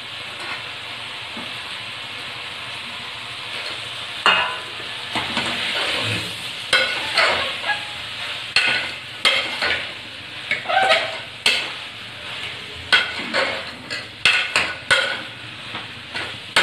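Carrots and beans being stirred and sautéed in a pressure cooker pot for veg kurma, a steady sizzle with repeated scraping and clinking stirs of a spoon against the metal, no talking.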